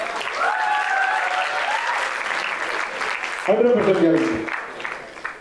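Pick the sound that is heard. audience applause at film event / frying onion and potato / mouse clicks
audience applause at film event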